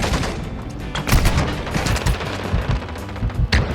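Lockwood 300 shotgun firing in a video game, a dense barrage of loud, close booming shots and gunfire overlapping in quick succession, with heavier blasts around the middle and near the end.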